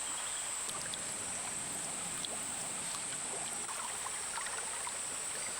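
A clear river flows through forest in a nature reserve, a steady even wash of running water with faint trickles, constant and moderately distant, with a high insect whine above it and no voices.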